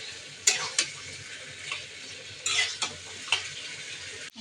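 Meat and taro are stirred in a frying pan, with a soft steady sizzle under several sharp scrapes and clacks of the spoon against the pan, close and moderately loud.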